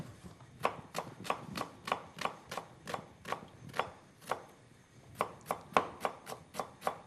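A knife chops onions quickly and rhythmically on a cutting board, about twenty sharp strikes with a short pause midway.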